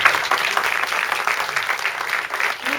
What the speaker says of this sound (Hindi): यहाँ तालियां ज्यादा होनी चाहिए,